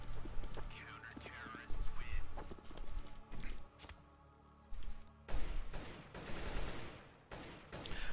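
Counter-Strike: Global Offensive match gunfire: sharp, loud shots come in irregular bursts, with a denser rapid stretch in the second half and short quiet gaps between volleys.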